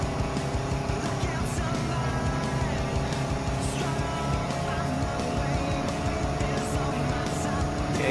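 Race car engines in the Gran Turismo 7 driving game, including a Toyota Tundra, form a continuous loud engine drone with overlapping revving cars and faint tire noise throughout.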